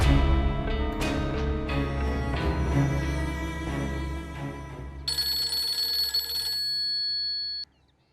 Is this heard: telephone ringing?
yes